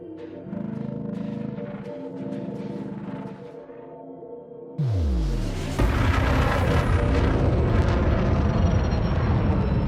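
A spaceship's frameshift drive in Elite Dangerous spins up for Super Cruise: a steady engine hum, then a sharp downward sweeping whoosh and a sudden loud, sustained roaring rush that fills the rest of the clip, with no talking.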